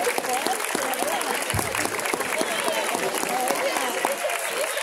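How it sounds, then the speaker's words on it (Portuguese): Audience at an adult cosplay contest during a Bon Odori festival in São Bernardo do Campo applauding the first-place winner, steady dense clapping with crowd murmur throughout. "palmas, pessoal, para o primeiro colocado"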